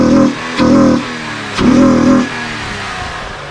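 An Infiniti G37S engine fitted with Stillen Gen 3 cold air intakes revs loudly in two strong bursts, with a short pause between them, then settles back to a steady idle rumble, with no talking.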